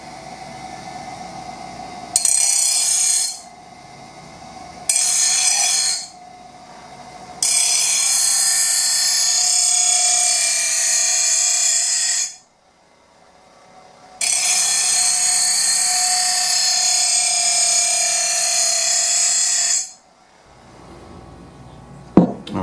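Angle grinder sharpening a lawn mower blade in several bursts, short ones first and then two long passes, a harsh, loud, hissing grind broken by brief pauses with the tool idling between.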